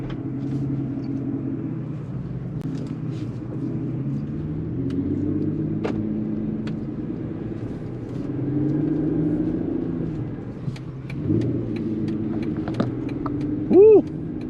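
A Porsche 911 with a V12 engine rumbles as it drives and accelerates along the road, heard from inside the car at moderate level with shifting engine tones and a few brief clicks near the end.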